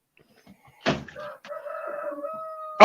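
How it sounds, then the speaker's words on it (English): A rooster crows once, at moderate distance, outdoors at a festival gathering: a sharp opening burst followed by a drawn-out, wavering call, with a brief loud knock at the end and no talking. "Oh, I heard a rooster."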